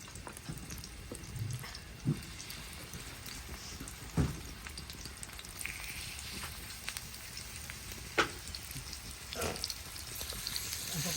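Seer fish (vanjaram) frying in a pan gives a continuous crackling hiss with occasional sharper pops, moderately quiet and close.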